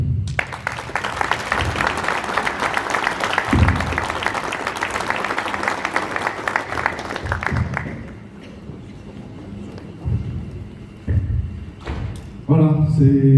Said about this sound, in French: Merci pour lui, on peut l'applaudir.